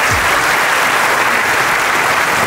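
A large crowd of trader seminar attendees in Jakarta applauds, a steady dense wash of many hands clapping at full volume throughout with no pauses.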